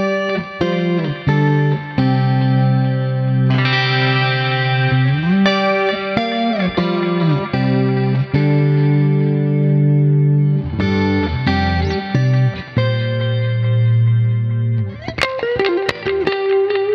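Electric guitar played through a pedal's EJ Clean setting, bright chorus-tinged chords and single notes ringing loud and continuous with effects shimmer, no talking.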